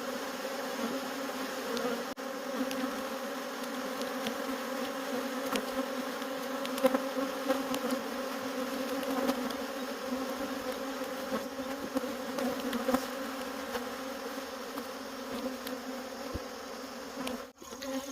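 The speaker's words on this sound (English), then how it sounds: "There are so many bees in that hive, it's crazy." Honey bees buzzing steadily in an open hive at evening, a dense continuous drone of many wings close by, with no talking.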